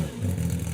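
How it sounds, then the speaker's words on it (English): A 1975 Group 4 Lancia Stratos rally car engine holds a steady, fairly faint drone, heard alone in a brief snatch. "1975 Group 4 Lancia Stratos."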